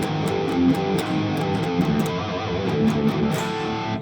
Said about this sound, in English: Or on the power chords, we might get like something like this